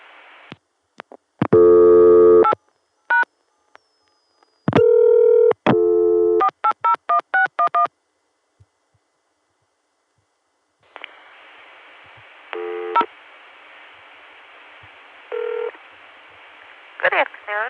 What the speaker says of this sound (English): Gonna call back and dial 0.